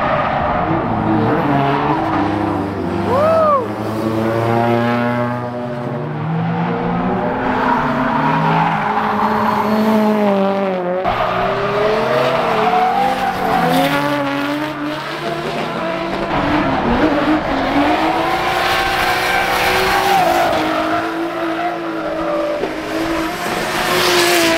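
At a Japanese drift day, a drift car screams past with its engine revving hard and its tires squealing in long skids, loud and close throughout with no talking.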